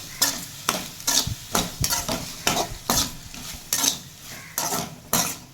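Cut potatoes sautéing in a pan for cauliflower kurma, a spoon scraping and stirring in steady rhythmic strokes, about a dozen sweeps over a light sizzle, close and alone.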